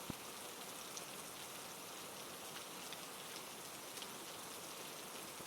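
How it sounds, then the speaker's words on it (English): Steady rain falls on a roof at night, a dense, even hiss of drops that carries on unbroken with no voices. "The sound of the rainfall against the roof is usually enough to rouse me from my sleep."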